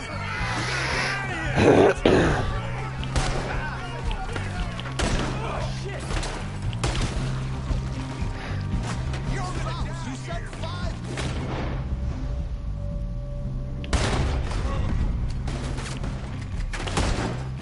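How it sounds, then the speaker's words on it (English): Gunfire shootout in Red Dead Redemption 2, with repeated sharp shots and bursts over a steady low game soundtrack, a louder cluster of blasts early and again near the end, with grunts and voices mixed in. "They're shooting right at me!"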